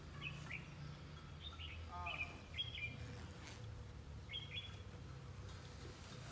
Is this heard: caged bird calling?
yes